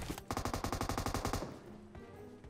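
Automatic gunfire from a PUBG battle royale match: a rapid burst of about a dozen evenly spaced loud shots, then a fading tail with fainter distant sounds.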